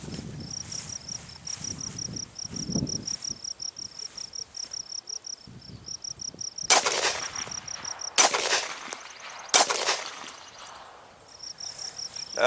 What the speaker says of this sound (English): we're going to start off today with the 9mm 115 grain out of a Glock 19.